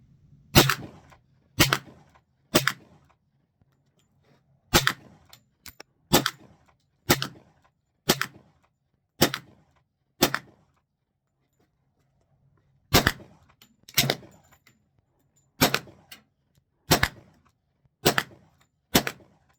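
Shots from a Springfield Armory XDM Elite 10mm pistol ring out outdoors, about sixteen sharp reports in two spaced strings with a short pause between, loud and alone without talk.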